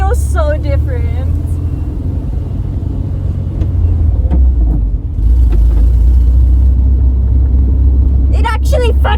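A VW van drives along with its engine running, giving a steady, loud, low rumble close by. A voice talks over it at the start and again near the end.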